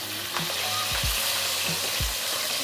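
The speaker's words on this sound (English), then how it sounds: "我哋放啲腸仔落去煎埋佢" Sausages fry in a pan for an English breakfast with a dense, loud, continuous sizzle. A few low thumps and knocks sound underneath, and no one speaks.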